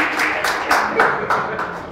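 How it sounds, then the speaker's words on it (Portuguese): An audience at a women's church gathering claps in a loose rhythm, several distinct clap bursts about a quarter second apart, mixed with voices. "Palmas, palmas."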